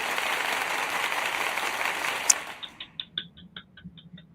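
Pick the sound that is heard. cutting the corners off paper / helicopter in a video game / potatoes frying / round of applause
round of applause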